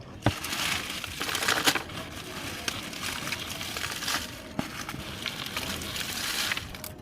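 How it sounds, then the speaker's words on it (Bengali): Dry leaves crunched and crumpled by hand into a 14-inch flower pot as drainage material for a plumeria plant, giving a steady close crackling rustle with sharper snaps throughout. "এখানে আমি ড্রেনেজ হোলের জন্য এখানে এই যে শুকনো পাতা আছে সেগুলোকে আমি ব্যবহার করব"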